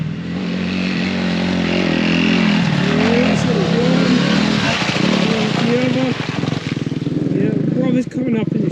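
Two dirt bikes approach with rising, revving engine whines that climb and waver in pitch, growing louder and nearer over a steady low rumble, with wind noise throughout.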